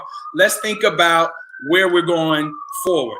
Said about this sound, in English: And excuse the siren. It's New York.